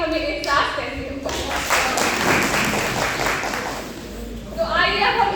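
An audience at a school program claps and applauds, a dense steady burst of clapping in the middle with a voice speaking over the start and end.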